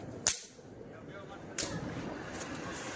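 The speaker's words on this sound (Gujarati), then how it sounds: "દિવાળીના ફટાકડા ફોડવા જોઈએ" Diwali firecrackers bursting outdoors: two sharp, loud cracks roughly a second and a half apart, each followed by a brief hiss, over a low background murmur.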